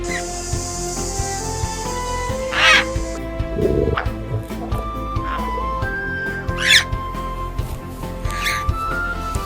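A parrot gives several sharp, harsh squawks at irregular intervals over a background of electronic tones and hum, loud and close, with no talking.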